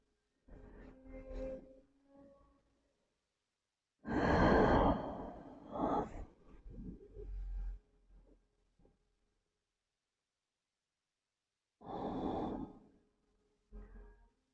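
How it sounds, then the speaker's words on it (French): Slow, relaxed breaths during a yoga session come in long, audible exhalations separated by quiet pauses, close and soft, with a couple of sigh-like outbreaths. "Votre respiration se dépose un peu plus encore."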